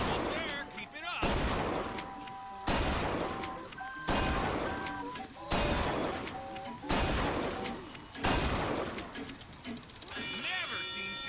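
Gunfire at a shooting gallery in Bioshock Infinite, loud close bursts of rapid shots repeating about every second and a half in a steady rhythm, with metallic ringing and clanks between volleys and speech mixed in.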